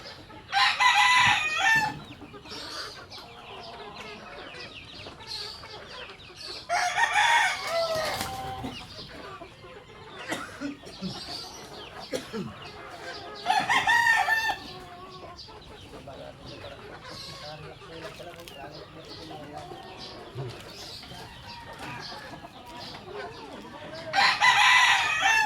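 On a farm, chickens cluck softly and a rooster crows loudly several times at regular intervals, with talk and household noise underneath.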